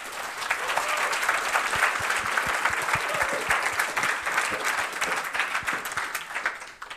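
An audience at the closing presentation of the Jugend hackt 2019 youth hackathon in Rostock gives dense, sustained applause that carries on for several seconds before tapering off at the end.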